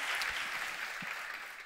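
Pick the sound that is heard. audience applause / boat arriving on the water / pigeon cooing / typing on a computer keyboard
audience applause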